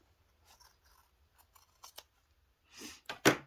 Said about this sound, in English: I'm going to cut this end off.